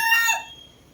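A rooster's crow, brief and fairly close, trailing off after half a second into quiet.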